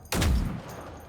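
A single heavy gunshot blast in the video game Generation Zero, a sudden loud boom that rings out and fades over about a second.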